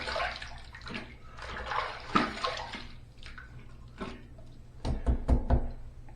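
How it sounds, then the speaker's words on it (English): Water from a tap splashes in uneven bursts as a safety razor is rinsed after a shave, close and soft, ending with a few sharp knocks of metal against a sink. "Let's rinse."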